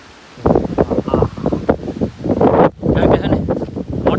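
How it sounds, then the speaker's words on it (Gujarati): Storm wind buffets the microphone in rough, rumbling gusts, rising and falling, with leaves rustling close by. "પવનના ઝાપટા તો આવે છે જો બધી વાઈડને પવન કેટલો આવે"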